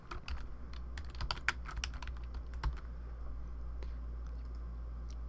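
Keys clatter on a computer keyboard in quick, irregular bursts of close, light clicks, with a short pause in the middle, over a low steady hum from the room or computer.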